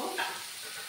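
Vegetables sizzle briefly in a hot pan for a rice-flour and potato breakfast dish. A soft, even frying hiss runs throughout with no voices.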